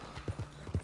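Horse hooves clip-clopping in Red Dead Redemption 2, a quick run of soft, near hoofbeats in an uneven trotting rhythm over a low background hum, with no talk.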